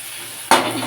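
Eggs fry in a pan with spices and chopped tomato; a soft, faint background suddenly jumps into a loud, close, hissing sizzle halfway through and keeps crackling steadily to the end.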